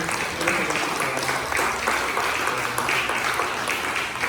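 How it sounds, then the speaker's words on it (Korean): A church congregation clapping steadily and evenly for several seconds during a Sunday service, a dense continuous patter with no pause. "박수로 우리 한번 도문순 권사님"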